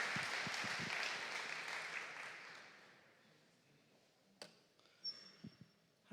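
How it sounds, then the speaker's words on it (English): Conference audience applauding a presenter with a dense, fairly loud wash of claps that fades over about three seconds, leaving only a few scattered claps and taps in a quiet room. "Give a big applause to Maya,"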